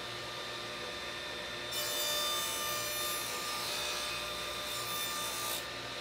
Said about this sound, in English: And then I'm going to make a test cut